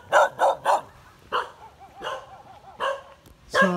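Dogs bark along a mountain road on Lombok, Indonesia: a quick burst of three loud barks, then scattered barks and yips, some near and some farther off.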